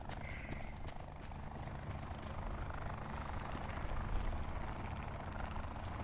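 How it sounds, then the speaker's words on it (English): A helicopter flies overhead in the Call of Duty Black Ops 4 Blackout battle royale mode, a steady, broad rotor rumble with rapid chopping that swells slightly midway and holds throughout. "Helicopter."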